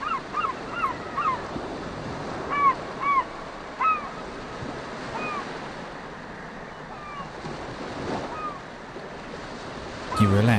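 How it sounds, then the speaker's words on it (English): Ocean waves wash steadily onto a beach on a coastal walk, a continuous soft surf wash with gentle swells, while birds call intermittently above it and a brief burst of wind or handling noise comes at the end. "You look out over the waves and can just see, very faintly, the outline of cliffs in the far distance."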